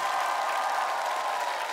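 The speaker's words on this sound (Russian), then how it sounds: "Папа, наши аплодисменты." A TV talent show studio audience applauds a contestant's father, a steady wash of clapping from a large crowd, loud and sustained, with faint cheering mixed in.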